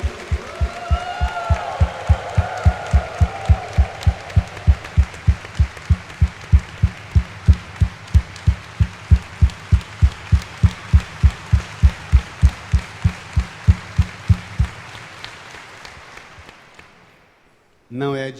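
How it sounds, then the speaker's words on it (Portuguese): Rhythmic, evenly spaced hand claps from a church congregation during Mass repeat steadily for about fifteen seconds with voices mixed in, then stop. "Dê uma salva de palmas para Jesus."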